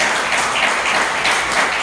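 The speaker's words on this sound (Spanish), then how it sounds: "¿Cuánto da un aplauso al Señor?" Congregation applauding for the Lord during a Spanish-language church sermon, a steady wash of clapping that holds at an even level throughout.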